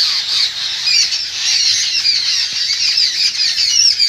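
A rescued Hutum owl, caged with damaged feathers and an injured leg, squawks in a continuous run of harsh, rasping calls, close and steady throughout with no talk.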